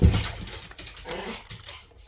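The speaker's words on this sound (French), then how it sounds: "Désolée si vous entendez des bruits un peu bizarres derrière moi, c'est mes chiens qui jouent" Dogs play roughly in a room, giving a low rumbling growl and grumbling throaty noises with scuffling, fairly close and continuous for a couple of seconds, with no speech.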